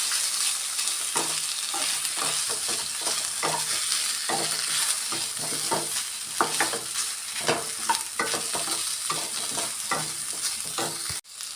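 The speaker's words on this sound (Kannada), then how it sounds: "ಇದನ್ನೆಲ್ಲ ಸೇರಿಸಿ ಚೆನ್ನಾಗಿ ನಾವು ಫ್ರೈ ಮಾಡ್ಕೊಳ್ಳೋಣ." Tomato, tamarind and grated coconut frying in a pan, a continuous close sizzle broken by repeated scraping strokes of a spatula stirring the mixture, with a sharp knock near the end.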